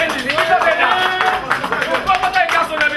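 Audience clapping at a gathering in Croix des Bouquets, a dense, lively patter of many hands continuing throughout while a voice speaks over the crowd.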